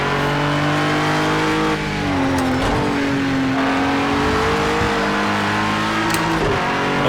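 A GT3 race car held at full throttle in Project CARS 2, its engine a loud, steady, close drone with pitch rising and dipping slightly through corners, plus a brief tire squeal.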